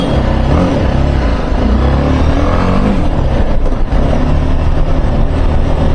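Engine of a BMW 310GS BS6 motorcycle riding on the road after its second service, a steady, continuous close drone that holds level throughout, with no talking.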